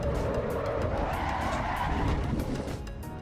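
A race car in the Assetto Corsa Evo driving game loses rear grip after a crest and slides, giving a loud, continuous tire squeal and skid over steady engine roar for the whole stretch.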